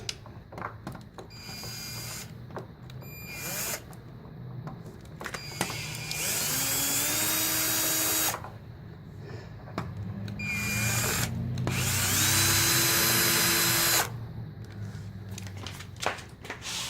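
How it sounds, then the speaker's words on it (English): A power drill fitted with a T20 security bit backs screws out of a Craftsman air compressor housing, sounding in several whirring bursts with rising pitch, separated by short pauses and small handling clicks. "I'm using my drill. T20 security bit."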